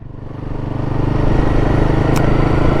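A Royal Enfield Guerrilla 450 motorcycle engine labours at low revs, a close, loud, throbbing rumble that swells over a few seconds, with one brief sharp click partway through.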